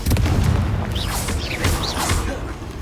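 Confringo spell blasts in Hogwarts Legacy, a series of booming thuds and bursts with whooshing magical effects, loud and close, repeating in quick succession without speech.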